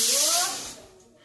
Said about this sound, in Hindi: तो यहाँ पे हमारा हो चुका है तेल गर्म गैस, और हम तड़का अभी ही दे देंगे